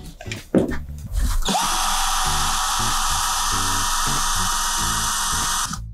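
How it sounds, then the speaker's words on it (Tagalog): A 12V cordless drill with a 5mm bit boring into 5mm steel flat bar, starting after a brief clatter and then whining loud and steady under load for several seconds before stopping. "testing natin itong 5mm na drill bit ko. Bubutasan natin tong 5mm na flat bar."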